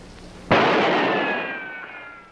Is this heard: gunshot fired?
yes